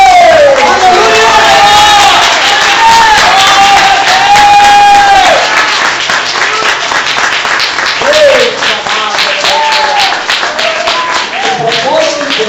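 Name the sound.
church congregation applauding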